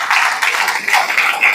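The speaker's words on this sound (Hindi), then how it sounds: "दोनों के लिए बहुत जोरदार तालियां" A brief burst of audience applause at a motivational seminar, dense clapping that stays fairly loud and steady for a moment with no one speaking.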